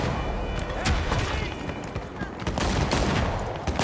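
Dense, continuous video game gunfire forms a steady barrage of rapid shots and booms, close and loud throughout, with a voice talking over parts of it.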